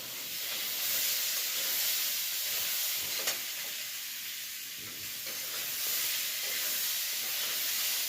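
Food sizzles and hisses steadily in a pan as a mother cooks dinner at night in a home kitchen, a continuous moderate frying noise with no talking.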